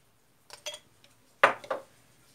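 A spoon or utensil knocks and scrapes twice against a bowl while stuffed mushroom filling with garlic, salt and black pepper is mixed, in short clinking bursts separated by quiet.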